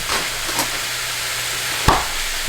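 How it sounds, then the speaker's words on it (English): Plant-based sausage browns in a pan with loud, continuous frying hiss, and two sharp clinks of a utensil against the pan break through the sizzle. "So I'm just going to brown this up."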